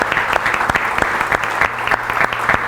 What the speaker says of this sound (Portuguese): Eu pedi uma salva de palmas para estas pessoas que aqui estão e os autores.